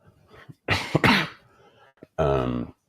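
Several harsh, close coughs come in quick bursts, then a pause, followed by one longer raspy cough and throat-clearing sounds.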